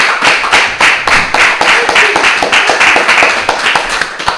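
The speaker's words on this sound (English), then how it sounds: "Let's give our hard-working brother minister another round of applause" Loud, close clapping from a crowd applauding a minister at a Ramadan religious gathering, the individual hand claps sharp and distinct in an uneven rhythm that carries on steadily for a few seconds.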